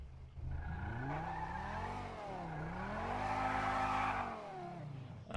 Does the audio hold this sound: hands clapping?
no